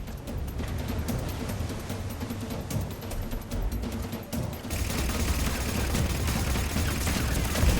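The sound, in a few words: gunfire in Mass Effect 3 video game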